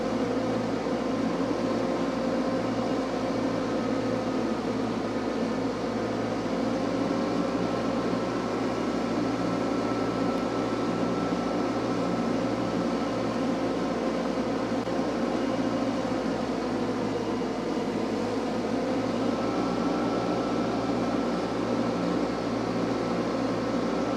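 A tractor engine runs steadily under load while mowing grass, a continuous droning hum with even mechanical noise throughout and no talk.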